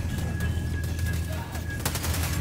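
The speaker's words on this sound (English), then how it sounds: "You gotta shoot him in the head" Rapid gunfire in Helldivers 2, a continuous rattle of automatic shots over a steady low rumble, with a thin electronic tone running through and a louder burst of fire near the end.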